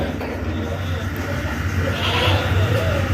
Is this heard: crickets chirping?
no